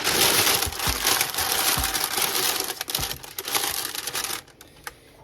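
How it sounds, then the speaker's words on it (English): Parchment paper crinkles and crumples continuously up close, with scattered sharp crackles and soft thumps, easing off toward the end. "let's line this with parchment paper."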